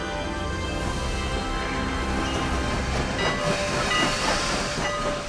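A Strasburg Rail Road steam train, from a line chartered in 1832, gives off a continuous loud hiss of steam with a faint sustained whistle tone running beneath it, steady throughout.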